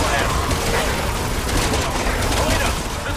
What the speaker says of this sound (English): shooting the hell out of some zombies